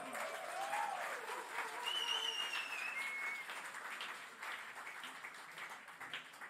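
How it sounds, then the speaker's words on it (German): Audience applause at a Plattsounds final concert, 2025: a sustained wash of clapping over a crowd, with a few faint whistles or calls rising in the middle before it thins slightly toward the end. "das war ein bisschen leise, können wir ein bisschen lauter machen. Applaus!"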